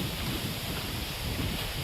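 Steady wind blows outdoors on a hot day, a continuous broadband rush across the whole clip with no distinct gusts and no voices.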